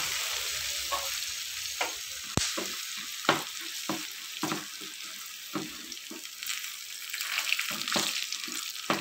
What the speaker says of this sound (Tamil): காஞ்சோன்னு இந்த வத்தல் எடுத்து வச்சுருக்கலாம் அதை முதல்ல பொரிச்சு எடுத்து வச்சுக்கலாம்.